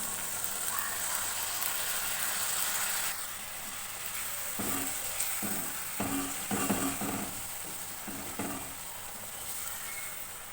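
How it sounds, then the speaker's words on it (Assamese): Ground cumin, coriander powder and garam masala sizzle in a pan for egg curry. The frying hiss is steady and fairly quiet, and midway a run of clattering scrapes comes as the spices are stirred. "এতিয়া মই মছলাখিনি দি অলপ সময় ভাজি ল'ম।"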